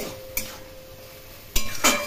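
A spatula stirs khero gourd frying in a pan, giving a faint, steady sizzle broken by three sharp metallic scrapes and clinks against the pan.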